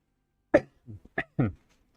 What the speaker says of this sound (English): I started just coughing my brains off.